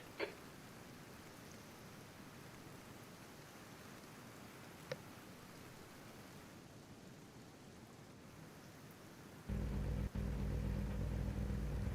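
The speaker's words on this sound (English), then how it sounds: "So it's still raining now." Steady hiss of heavy rainfall in the iRacing racing game during a Supercars race session at Winton, broadband and continuous, with a louder rumbling surge near the end.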